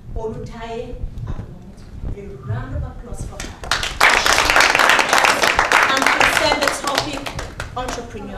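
Audience applause and clapping break out at a foundation event after a guest is introduced, building from scattered claps into a dense, sustained round under voices, with speech audible before it swells.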